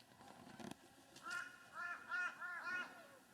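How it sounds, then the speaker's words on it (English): Ducks at Millstream in Western Australia's Pilbara give a run of five or six nasal quacks in quick succession, fairly faint and distant, after a single soft knock. "A few ducks."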